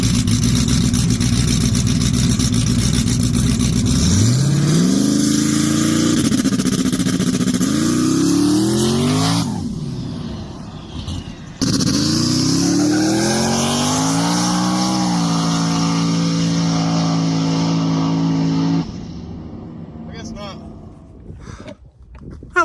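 A drag race car makes a test run at Indian Valley Raceway, its loud engine revving hard through rising gear pulls, dropping briefly, then winding up again before fading away; voices are heard over the engine.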